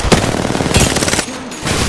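Rapid automatic gunfire in the battle-royale shooter Apex Legends, loud and close, a fast sustained burst that breaks off briefly before resuming, with no talk over it.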